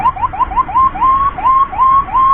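An ambulance siren from the Mitra Medika emergency unit blares loud and close, quick repeated rising whoops stretching into longer wails, with no voices.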